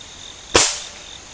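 A single sharp crack from a Beeman RS2 .22 caliber spring air rifle fired through a chronograph, short and fairly loud, decaying quickly over a faint background hiss.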